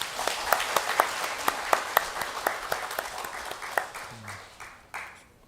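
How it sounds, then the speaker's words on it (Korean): A church congregation claps together during a Sunday worship service, a dense run of sharp, fairly even claps that fades out toward the end, with no talking over it. "잘 갔다 오라고 우리 박수하시겠습니다."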